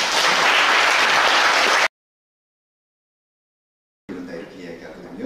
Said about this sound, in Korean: 여러분 따뜻한 박수 부탁드립니다